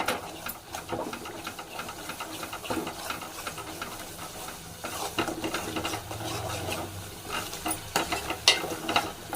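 Ginger garlic paste fries in oil for an egg gravy curry, with a steady close hiss and sizzle broken by scraping stirs and bursts of spattering.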